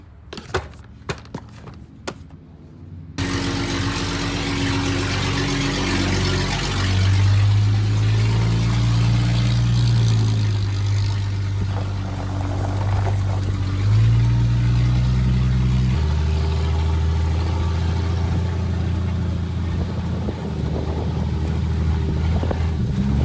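After a few handling clicks, a buggy engine starts abruptly and settles into a loud, steady droning run with slight shifts in pitch, continuing close by for about twenty seconds without talking.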